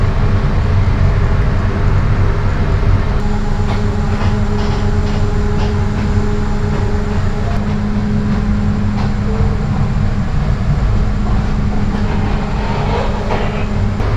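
Suborno Express, a non-stop train in Bangladesh, rumbles loudly and steadily at a station, with a continuous low mechanical drone, faint rail clatter and brief higher screeches, and no speech.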